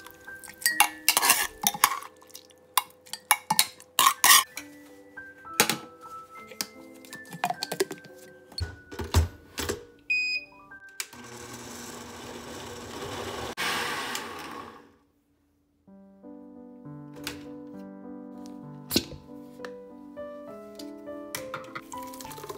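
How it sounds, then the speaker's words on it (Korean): A countertop blender grinds cooled vegan beet soup ingredients in a kitchen. Dishes and utensils clatter first, then a loud, steady whirring roar runs for about four seconds and stops abruptly. "식힌 재료를 믹서기에 넣고 갈아줍니다."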